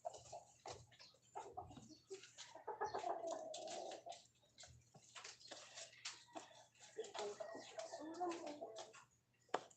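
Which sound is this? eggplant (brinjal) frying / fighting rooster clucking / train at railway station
fighting rooster clucking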